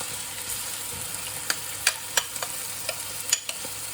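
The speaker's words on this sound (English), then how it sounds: "Give that a stir around." Mango stirred around a frying pan with garlic and fresh ginger: a steady low sizzle with scattered scraping clicks and taps from the utensil against the pan, close and moderately quiet.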